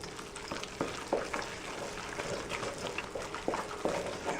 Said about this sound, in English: Now we're just going to mix this really well.